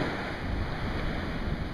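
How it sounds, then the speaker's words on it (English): Heavy ocean surf at a beach where someone is fishing, a loud, steady wash of breaking waves mixed with rumbling wind buffeting the microphone, with no voices. "I'm a magnet for heavy waves, guys."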